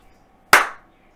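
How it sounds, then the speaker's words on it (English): A single sharp hand clap, close and loud, with a quick decay, standing alone against near silence. "A clap."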